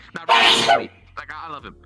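A single loud, close sneeze bursts out suddenly, followed by a person talking casually at a streamer's microphone.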